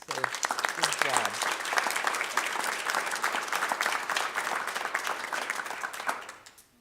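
Audience applause at a school governing board meeting honoring students, sustained dense clapping for about six seconds before fading out, with some voices mixed in early on.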